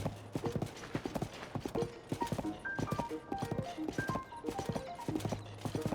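Horse hooves clip-clop in a quick, uneven rhythm close up in The Legend of Zelda: Tears of the Kingdom, with a low snorting hum at the start and end.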